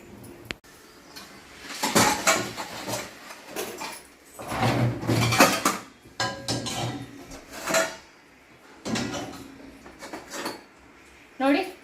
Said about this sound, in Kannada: ಬನ್ನಿ ಇವಾಗ ಪಾತ್ರೆಗಳನ್ನೆಲ್ಲ ಹಾಕೋಣ.